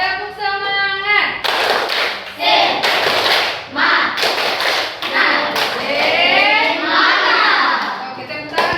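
A room of participants, led by a presenter and standing for an icebreaker, claps a rhythmic spirit-clap chant together, with sharp group claps forming patterned beats. Voices chant and talk along between the clapping bursts.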